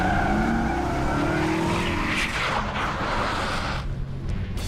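A car speeds up and skids during a film stunt at the Navy Yard, a loud, continuous engine roar with tire noise close by, surging then tapering over several seconds.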